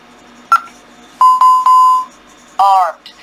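An ADT Ademco Vista alarm keypad beeping as it is armed in stay mode: a short electronic beep, then three sustained beeps in a row, followed by a brief warbling tone, with someone talking nearby.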